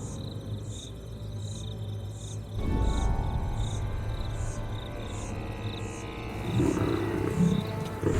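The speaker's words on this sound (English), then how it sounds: "The thundering sound of a lion defending its territory can be heard from 8 kilometers away." A deep, rumbling lion roar swells up close over a steady chirping of insects in the background.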